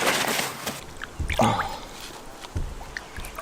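A sturgeon is released back into a fishing pond, giving a few separate splashes and water sloshes close by, loudest midway, with quiet gaps between them and no talk.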